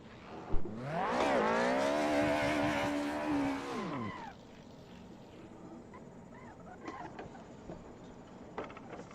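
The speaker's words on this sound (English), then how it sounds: "Oh my gosh, it's so easy to stall this car." A car engine on the Pikes Peak mountain road revs up loudly with a rising, straining tone for a few seconds, then abruptly dies away as it stalls, leaving only faint background noise and a few light knocks.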